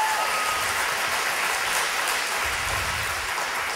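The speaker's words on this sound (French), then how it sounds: "S'il vous plaît, on les applaudit fort." A school show audience applauds a magician's two assistants, a dense, steady wash of many hands clapping that carries through the whole stretch at even loudness.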